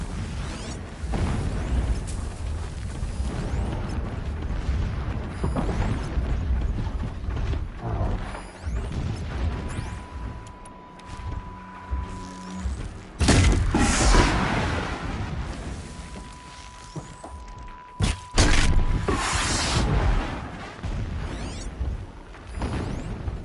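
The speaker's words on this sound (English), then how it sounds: "Explosions in the distance" Explosions rumble in a PS4 video game, with a steady mechanical background punctuated by several heavy, booming blasts and crashes spaced apart, some sharp and loud, others rolling and more distant.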